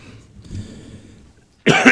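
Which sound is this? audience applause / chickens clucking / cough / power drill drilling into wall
cough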